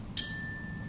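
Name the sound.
meditation chime being struck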